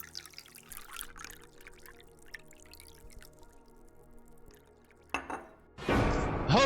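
Tap water gushes at raised pressure in a video game, a sudden loud broadband rush that starts near the end after a quiet stretch of faint room noise.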